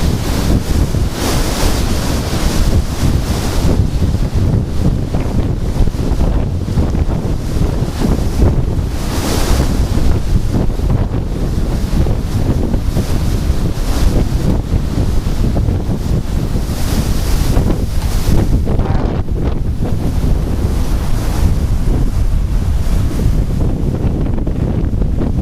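Very high winds roar during a snowstorm in St. Louis, Missouri, a loud continuous gusting rush battering the microphone for the whole stretch, with no voices.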